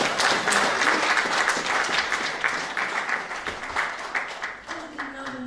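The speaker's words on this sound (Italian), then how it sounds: "Un applauso." Audience applause for a performer at a Sicilian poetry-and-song stage show, dense sustained clapping from a crowd that tapers off near the end as a voice begins to speak.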